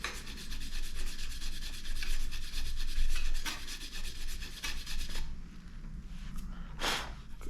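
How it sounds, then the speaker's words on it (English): A cleaning brush scrubbing inside a bicycle steer tube, close, steady rasping back-and-forth rubbing that rises and falls in waves, easing off near the end with a brief sharp scrape. "I like to use these brushes for cleaning the steer tubes."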